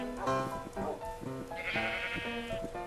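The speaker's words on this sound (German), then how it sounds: "da sind voll viele Schafe noch hier" Several sheep bleat in the video game Minecraft, a run of overlapping wavering bleats in quick succession with one higher, brighter call near the middle, close and clear with no talk over them.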